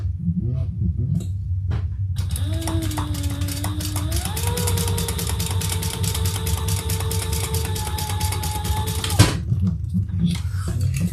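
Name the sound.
sewing machine stitching across a line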